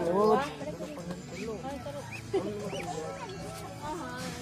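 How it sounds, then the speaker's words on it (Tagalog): A duck quacks in a series of nasal calls while people talk nearby, the quacks mixed in with the voices. "Ang pato."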